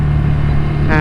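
Ducati Scrambler Nightshift motorcycle riding with its engine humming steadily and loudly up close, then a brief rising upshift near the end, with a rider talking over it.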